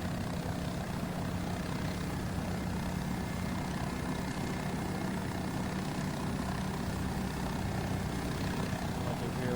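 A Bell 407 helicopter's engine in X-Plane 12 hums and whines steadily throughout, a constant turbine drone with a faint rotor pulse and no break, sitting under occasional talk.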